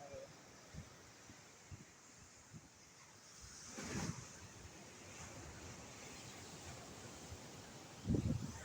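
Arabian Sea waves wash onto the shore in a soft, continuous surf roar with gusty wind buffeting the microphone, swelling into two louder surges partway through and near the end.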